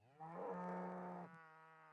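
Cattle mooing in RuneScape 3, a single long, loud, tonal moo that swells then trails off into a quieter sustained lowing, heard alone without talk.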